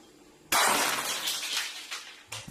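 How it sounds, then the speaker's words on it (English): Glass shatters abruptly after a quiet moment, a loud close crash trailing into scattered tinkling shards, followed by a second smaller breaking hit near the end. "it proceeded to break a glass"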